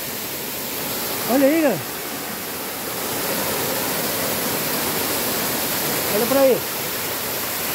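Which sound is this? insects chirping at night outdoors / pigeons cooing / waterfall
waterfall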